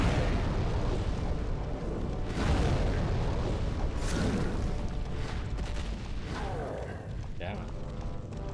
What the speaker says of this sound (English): If he wants to, he'll just keep spamming his explosions